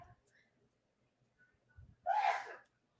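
One abrupt sneeze bursts out near the microphone after a couple of quiet breaths, loud and short against an otherwise near-silent room.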